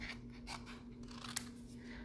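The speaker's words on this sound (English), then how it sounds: "I'm going to just fussy cut," Scissors fussy cutting around a paper playing card image, a few soft close snips and paper rustles against a faint steady hum, quiet and brief with no talking.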